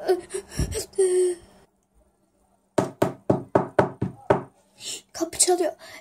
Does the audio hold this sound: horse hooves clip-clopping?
no